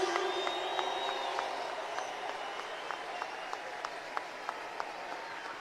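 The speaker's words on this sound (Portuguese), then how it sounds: "Eu acho que eles merecem mais aplausos, mais forte, mais forte." A protest rally crowd applauds steadily, with scattered sharper claps standing out above the broad, dense wash of clapping and some crowd noise.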